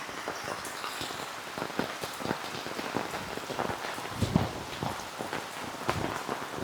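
Steady rain patters on a surface all around, with denser drops tapping close by and a constant wash of hiss beneath.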